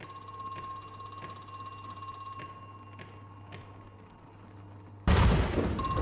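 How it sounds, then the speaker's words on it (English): In the survival horror game Crow Country, a phone rings in regular, evenly spaced trills over a steady electrical hum, faint and somewhat distant, before a sudden loud burst of noise at the end. "The phone rings."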